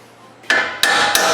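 A hammer strikes the splined nut on a fifth-generation Ford Mustang suspension three times, each a sharp, loud metallic clank ringing close by over a low background hum.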